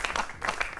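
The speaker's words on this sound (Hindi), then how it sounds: "हाँ, अब तालियां उठाना।" Audience applause at a Hindi comic poets' gathering on weekly news, a broad steady wash of clapping that swells and eases over a short moment, with no voices on top.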